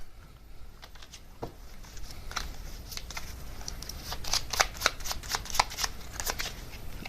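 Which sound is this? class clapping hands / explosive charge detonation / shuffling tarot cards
shuffling tarot cards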